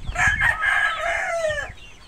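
A Thompson White straight comb rooster crows once, loud and close, a drawn-out call lasting about a second and a half with faint background noise.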